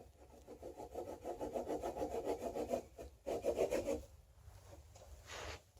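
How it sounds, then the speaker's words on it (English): A hand saw cuts through a piece of turned wood on a lathe project, steady rasping back-and-forth strokes close by, a brief pause near the middle, then a few more strokes before stopping. "I'm going to take my saw here, and I'm just going to saw this off"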